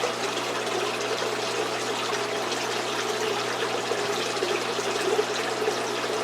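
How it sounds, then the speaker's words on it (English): Water from a gourami aquarium drains steadily through a siphon hose during tank maintenance, a soft continuous trickling and gurgling hiss, close and fairly quiet, with no talk over it. "Let that water start draining, and once you get it going,"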